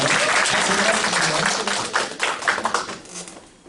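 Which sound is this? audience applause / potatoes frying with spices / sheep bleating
audience applause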